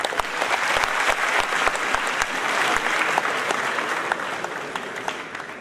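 An award ceremony audience applauds as a guest is welcomed to the stage, sustained dense clapping with a few sharp individual claps standing out, tapering slightly toward the end.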